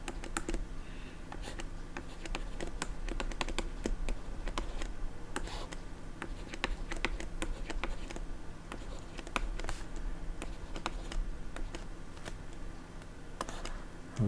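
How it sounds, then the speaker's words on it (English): Button presses on a calculator while a mechanics calculation is typed in, a steady run of quick close taps and clicks over a faint background hum, with no talking. "Type that into our calculator carefully."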